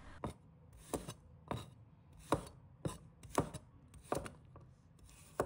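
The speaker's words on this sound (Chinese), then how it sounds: "把大蒜切成小块" Knife chopping garlic into small pieces on a board for an oyster dish, about nine sharp, evenly spaced chops, close and fairly loud with short pauses between.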